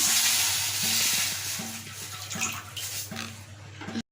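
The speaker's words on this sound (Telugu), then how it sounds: "కొంచెం వాటర్ పోస్తున్నానండి" Water pours steadily into a hot pan of mint and rice-flour mixture, a continuous rushing hiss with some sizzling, over a low steady hum, then stops abruptly.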